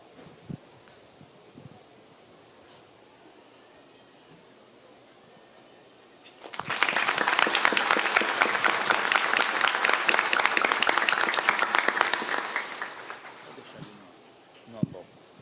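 A church congregation applauds during a solemn Mass for the Senhor Bom Jesus de Tremembé feast, a dense burst of clapping that swells in, holds for about six seconds and then fades, with faint speech before and after.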